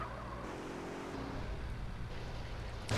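A car sliding and drifting in GTA San Andreas multiplayer, a steady engine roar with tyre noise held for several seconds, loud and up close, with no talking.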